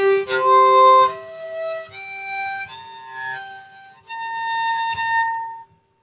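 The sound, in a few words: bazantar playing an interval tuned with the prime 7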